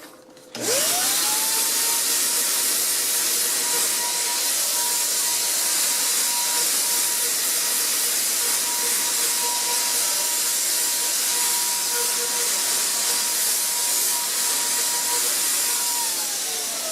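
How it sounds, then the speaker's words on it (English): A paint sprayer being cleaned out, after use painting a projector screen, gives a loud, steady hiss with a constant whine that runs nearly unbroken for about sixteen seconds and then stops, with no talking. "Just use a little common sense when I clean my sprayer out to make sure it's clean when I use it."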